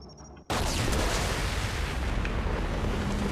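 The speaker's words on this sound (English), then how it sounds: "Oh, he's doing the supersonic nuclear explosion." Supersonic nuclear explosion in Mass Effect 2: a sudden massive blast erupts after a brief quiet moment and rolls on as a loud, sustained roaring rumble for several seconds, with no speech.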